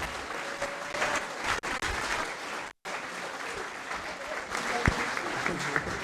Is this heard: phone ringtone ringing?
no